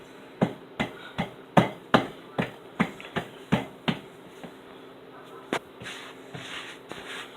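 Buttermilk biscuit dough being patted out by hand to about an inch thick, a series of a dozen or so soft, evenly spaced slaps close up, fading toward the end with quiet room noise.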